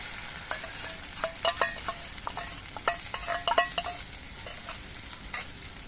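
Spice paste with ginger paste stirred and frying in a pan for a mung dal and pointed gourd dish, with a steady soft sizzle under repeated scraping strokes of a spoon, close and fairly quiet, no voices.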